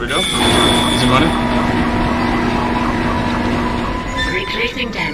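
A damaged tram car rumbles along its track in the Dead Space video game, a loud steady mechanical drone with sustained whining tones and rattling throughout, under a voice.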